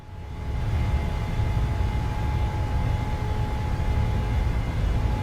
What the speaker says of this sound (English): Those engines sound so angry.